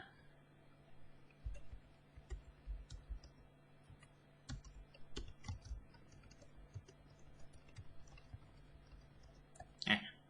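Mouse clicks on a computer while a teacher works through a school grade-improvement system, scattered faint clicks at an irregular pace in a quiet room, ending with a slightly louder click.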